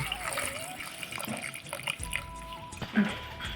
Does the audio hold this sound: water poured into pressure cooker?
yes